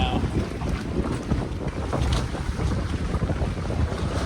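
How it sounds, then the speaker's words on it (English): Strong storm winds of about 30 knots roar steadily around moored boats in the Bahamas, with heavy gusting and buffeting on the microphone, plus a constant low rumble of wind and water throughout. "We're getting a crazy windstorm."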